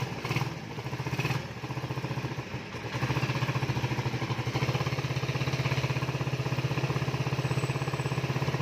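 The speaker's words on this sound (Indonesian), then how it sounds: "Mandan bocor knalpotnya." A Suzuki Satria FU motorcycle engine running with a leaking exhaust, a close, steady idle with a buzzing, rattly pulse that grows slightly louder and more even partway through.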